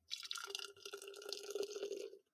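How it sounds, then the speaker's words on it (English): Second Fiddle double IPA from Fiddlehead Brewing Company being poured into a glass, a soft steady trickle with faint glugging and fizz, quiet and close, without any voices. "I have a Second Fiddle double IPA by Fiddlehead Brewing Company, and I'm doing a live pour"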